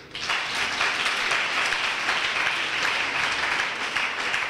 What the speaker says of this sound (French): Acclamons le Seigneur pour vous.